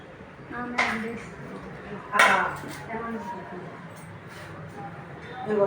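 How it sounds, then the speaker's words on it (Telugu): Peanuts tossed and roasting in a pan for spice powder, with a couple of sharp metallic clinks of utensil against pan over a low rustle, while people talk nearby. "చూడండి పల్లీలు వేపేసుకుంటున్నా"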